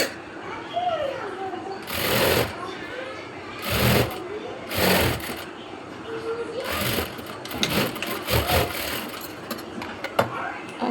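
Electric sewing machine stitching the yoke of churidar pants, with several loud, brief bursts of rapid mechanical whirring separated by pauses while someone talks.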